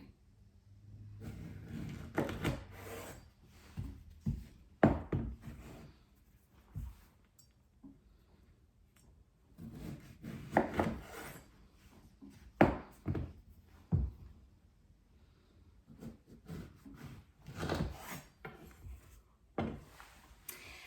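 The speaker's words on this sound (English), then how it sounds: "I'm just gonna slice these in half, and then just set them cut side down." Pears being sliced in half with a knife on a cutting board, then set cut side down: scattered knife taps and board knocks in irregular bursts with quiet gaps between, close by.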